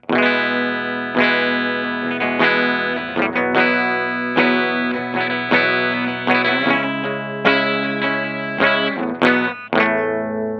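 A Martin D-28E acoustic-electric guitar on its bridge pickup plays strummed chords and picked notes with a bright, slightly distorted tone, each chord ringing briefly before the next.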